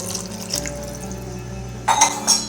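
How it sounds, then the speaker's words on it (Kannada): Water is poured from a glass into a cooking pot, a steady watery splash with a brighter clink and gush near the end, heard alone without talk. "ಅದ್ರ ಮೇಲೆ ಒಂದು ಸ್ವಲ್ಪ ನೀರು ಎಕ್ಸ್ಟ್ರಾ ಹಾಕ್ಕೊಳ್ತಿದ್ದೀನಿ ನಾನು"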